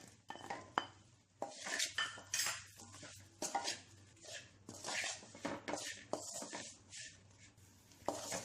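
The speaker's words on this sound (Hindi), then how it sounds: "लो फ्लेम पे ही आलू अच्छे से मिक्स कर लें इन मसालों के साथ" Fried potatoes get tossed with masala spices in a pan over low flame, heard as clattering spoon-on-metal scrapes and knocks in irregular bursts, close and distinct, with little sizzle and no talking.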